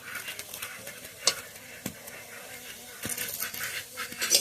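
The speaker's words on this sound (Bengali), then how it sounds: "তো বন্ধুরা এইভাবে সব পরোটাগুলো ভেজে নিই" Parathas frying in oil in a pan, a soft sizzle punctuated by a few sharp scrapes and taps of a spatula, close and quiet.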